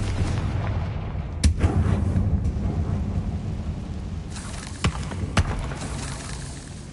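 A Confringo fire spell in Hogwarts Legacy sets off a few sharp, booming blasts. Two or three crack out over a rumbling background with a short rolling tail.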